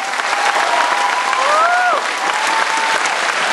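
A crowd at a mayoral campaign event in Ivaylovgrad, Bulgaria, applauds a candidate with dense, steady clapping at a constant loudness, with a faint tonal sound rising and falling in the background.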